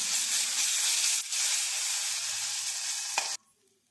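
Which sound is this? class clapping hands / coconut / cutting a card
coconut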